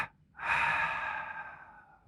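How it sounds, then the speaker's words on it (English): A pranayama breathing exercise: a forceful double exhalation pushed out through the mouth, heard as one close, breathy rush of air that starts after a short gap and fades gradually. "a double inhalation through the nose while we tense the body, double exhalation out the mouth"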